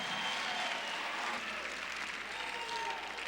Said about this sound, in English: Mike Jones, give him a round of applause.